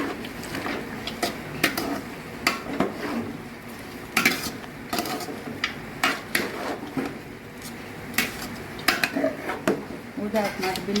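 Metal spoon scraping and knocking inside a cooking pot while Mangalorean pork bafat is stirred, irregular clanks and scrapes repeating close by, with faint background talk.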